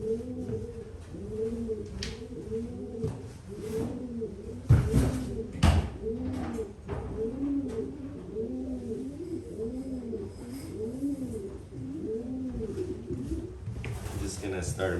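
About twenty racing homing pigeons coo steadily near a handmade trap, a rhythmic chorus of repeated low throaty calls close by, with a few knocks and clatters in between and no clear speech.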